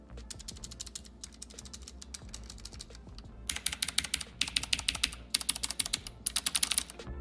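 Mechanical keyboard switches being typed on, first in bursts of sharp, fast clicking, then louder and brighter runs of keystrokes, close and with no talking.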